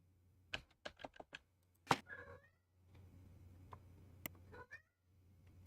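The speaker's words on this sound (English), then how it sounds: "I have a kitty going meow meow." A house cat meows a few times at moderate distance, with soft clicking like keyboard typing scattered around it and a steady low hum underneath.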